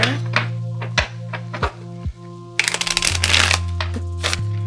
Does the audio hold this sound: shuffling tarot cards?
yes